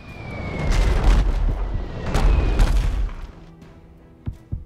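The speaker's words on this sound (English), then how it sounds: "Mortar shells incoming." Mortar shells bursting in the naval game Abandon Ship: two heavy booming impacts a second or so apart, each with a long rumbling decay, then fainter distant thuds.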